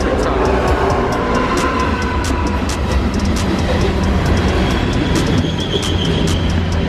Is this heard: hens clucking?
no